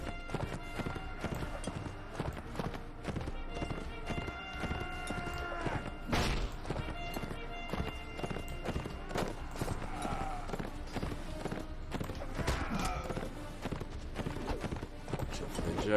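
Rhythmic hoofbeats of a galloping horse in Mount & Blade Imperial Rome, steady and fairly loud, with scattered clanks and thuds of a busy battle scene around them.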